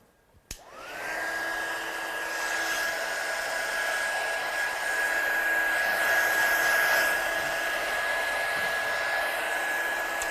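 A small handheld heat tool clicks on, then blows steadily and loudly with a high whine, melting and setting embossing powder at close range with no pause.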